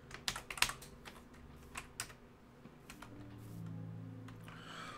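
Computer keyboard keys tapped in an irregular run of sharp clicks during a Minecraft session, fairly close and moderately loud, thinning out toward the end as a low steady hum takes over.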